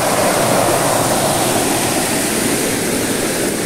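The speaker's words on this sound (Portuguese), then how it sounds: "24 horas de fluxo corrente de água." A waterfall on a 70,000 m² rural property in Santa Isabel pours steadily in a loud, continuous broadband rush of falling water that never lets up.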